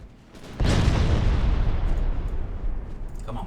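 Armor-piercing shells fired by naval guns in the Ultimate Admiral Dreadnoughts warship game: one heavy boom that swells into a long, loud, rumbling roar lasting several seconds, with no talk.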